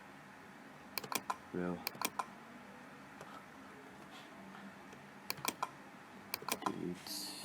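Computer keyboard typing and mouse clicks while working in Photoshop: short bursts of quick key taps separated by pauses, close and fairly quiet, with a voice speaking briefly.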